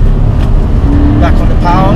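A Toyota GT86 engine drones under braking and a heel-and-toe downshift, with a short rev blip near the end and someone talking over it.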